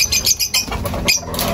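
African lovebirds in a mini aviary chirp in a busy, continuous jumble of short bright calls, with some wing flutters mixed in, close and fairly loud.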